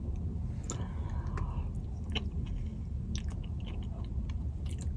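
Someone eats beans with cheese, producing close, wet chewing and soft biting sounds that continue steadily, with small sharp clicks over a low, constant background hum.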